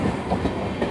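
Sapthagiri Express AC train from Chennai to Tirupati moving at speed, heard from inside the coach as a loud, steady rumble with rhythmic clickety-clack of wheels over rail joints.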